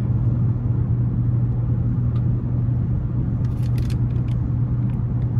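A 2015 Chevrolet Impala LT with the 2.5 engine cruising on the interstate, heard from inside the cabin as a steady, loud low rumble of road and engine noise with a few faint clicks and no talking.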